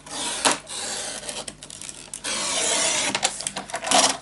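Paper piece being trimmed a millimeter smaller for a Crystal Bliss mini album, giving close, irregular rasping cuts and rubbing sounds with short pauses between strokes.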